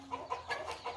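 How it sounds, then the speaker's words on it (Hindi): Chickens clucking in a short, uneven series of soft calls as someone tries to catch a rooster, moderately close but fairly quiet. "और ये इधर से जैन बाहर से मुर्गा पकड़ने की कोशिश कर रहा है"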